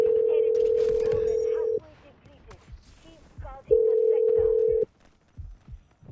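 Telephone ringback tone on an outgoing call: two long, steady, loud electronic rings separated by a pause, with a voice talking faintly in the gap between them.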